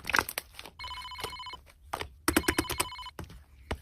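A telephone rings in two electronic bursts, each about a second long, with sharp tapping clicks before and between them.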